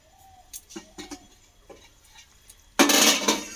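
A metal lid clinks and rattles onto a cooking pot in a home kitchen making a dal and egg dish, a few light taps followed by a loud burst of hissing.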